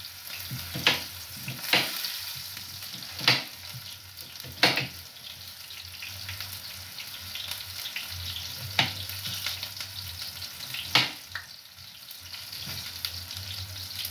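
Chopped onions frying in a pan while a Kenyan home cook prepares a meal, giving a steady sizzle broken by occasional sharp clinks and scrapes as they are stirred, with no talking.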